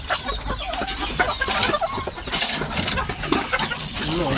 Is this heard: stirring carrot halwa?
no